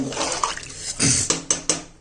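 Water poured into a cooking pot while making chicken biryani, a splashing pour with a few short bursts and clinks, fairly close, no talking.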